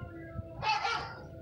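A dog barks in a short burst while being teased, with a couple of loud close yelps and whines over a steady low background rumble.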